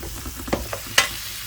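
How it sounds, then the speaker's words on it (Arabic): Meat slices frying with onions in ghee and butter, a steady close sizzle with a few stirring clicks and scrapes of a utensil. "بعد كده هننزل بشرايح اللحمه بتاعتنا."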